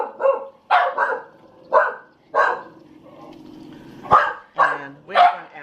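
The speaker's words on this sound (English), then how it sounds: "They're barking at the neighbors." Dogs bark in sharp bursts, several barks spaced irregularly, fairly close, with a low whimper or growl between them.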